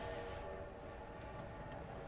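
In the game Enemy Front, an armored train rolls closer, giving off a deep sustained rumble with a faint tonal whistle layered on top, steady and moderately quiet, with no one speaking.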